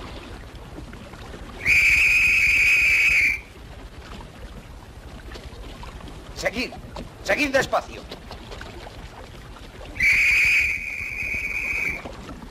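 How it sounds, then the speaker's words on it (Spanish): Two long, steady ship officer's whistle blasts sound a few seconds apart, loud and piercing, with someone speaking quietly between them over a low background rumble, aboard the Titanic. "Es el silbato de un oficial."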